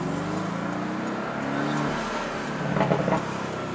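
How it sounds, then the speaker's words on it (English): A 2017 Porsche 718 Boxster with the Sport Package and Sports Tune exhaust accelerates, its engine note rising steadily through the revs. The exhaust swells to a louder burst near the end. "I cannot get enough of that exhaust system. This car is equipped with the Porsche Sports Tune exhaust system."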